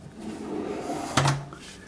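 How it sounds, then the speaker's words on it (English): A homemade kitchen drawer slides back into its drawer slides and stops with a soft thud, one brief close impact over faint room noise. "The drawer is put back in the sliders."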